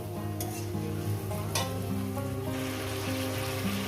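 Fish curry with drumsticks sautés in a pan, a continuous sizzle with occasional scraping stirs and a couple of brief clatters of the spoon against the pot.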